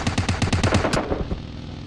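Rapid automatic gunfire in a video game during a live stream: a loud, fast burst of evenly spaced shots for about a second, then fading rumble and echo.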